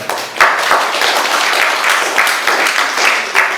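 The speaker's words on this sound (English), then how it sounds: "So round of applause for Dahel." Steady applause from a seated class audience at an in-person tech skills training session, dense overlapping claps sustained throughout with a few sharper individual claps standing out.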